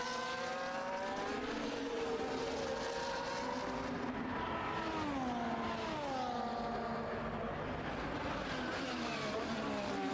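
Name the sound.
F1 race cars driving and overtaking in a racing video game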